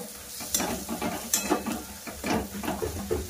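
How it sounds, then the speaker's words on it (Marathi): Mashed rajma sautéing in a pan for rajma chawal: soft sizzling under uneven scraping and stirring strokes, close and moderately loud, no talk. "थोडंसं आपण हे परतवून घेणार आहोत"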